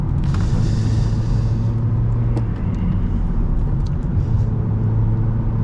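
An eighth-generation Honda Civic accelerates in first gear, heard from inside the cabin as a steady, loud, continuous engine and road rumble with no breaks.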